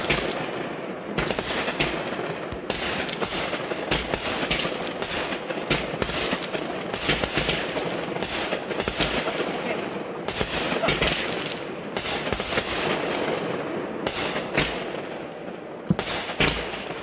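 New Year fireworks mortars explode outdoors at a backyard setup, a continuous crackling barrage of distant bangs and pops with occasional louder booms, with faint background voices.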